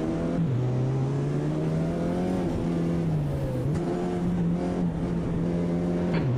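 A race car engine in the racing game Automobilista 2 revs loudly and steadily, its pitch climbing and dropping through several gear shifts, with no talking.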